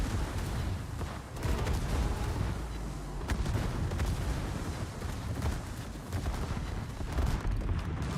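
Secondary guns of a warship firing in World of Warships, a steady barrage of rumbling artillery booms overlapping into a continuous roar, with sharper cracks scattered throughout.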